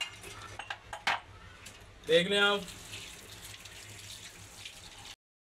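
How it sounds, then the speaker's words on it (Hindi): Dishes and cutlery clatter as a woman washes them by hand under a tap at home, with scattered clinks and a brief splash of running water, while a voice speaks briefly. "ये अम्मी बर्तन धो रही हैं"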